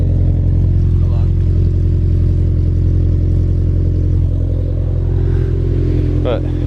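A 2018 Subaru STI with a Cobb exhaust and Process West manifold idles loudly up close, giving a steady, throbbing burble with a deep rumble and no revving.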